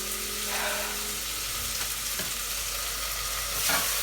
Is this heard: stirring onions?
yes